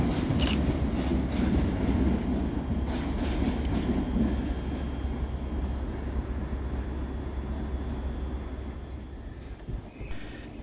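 A ScotRail train moves through Edinburgh Waverley railway station, a steady, fairly close rumble with a few brief squeals at the start, slowly easing in level.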